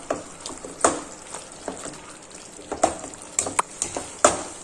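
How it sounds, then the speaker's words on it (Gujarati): Raw mango and tomato for a sweet-sour chutney are pressed with a masher, giving repeated soft squelchy thuds and wet scraping in an uneven rhythm, close and moderately loud, with no talking. "આ રીતે આપણે બધું જ એકદમ સરસ રીતના મેસર વડે મેશ કરી દેવાનું છે અને મિક્સ કરી દેશું."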